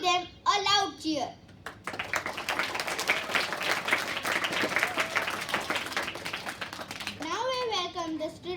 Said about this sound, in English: Give them a loud cheer.